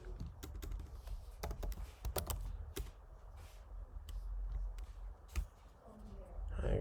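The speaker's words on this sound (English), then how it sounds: "Let me go to Google and I will type" Someone types on a computer keyboard in quick, irregular bursts of sharp clicks. The sound is close but fairly quiet, over a low background hum.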